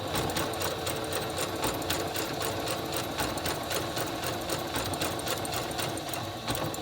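A sewing machine stitches a blind hem, running at a steady fast pace with a rapid, even mechanical clatter throughout, close and unbroken.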